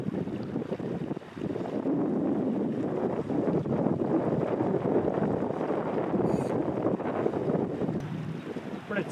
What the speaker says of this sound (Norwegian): Nå ble det plutselig full storm her